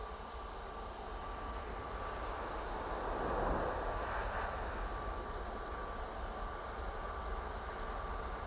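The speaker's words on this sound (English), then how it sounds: "This is the 787-9 Dreamliner." A Boeing 787-9 Dreamliner passes at Manchester Airport, its engine roar rising to a broad peak around the middle and then easing into a steady distant drone.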